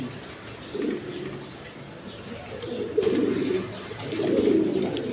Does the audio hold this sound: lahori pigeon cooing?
yes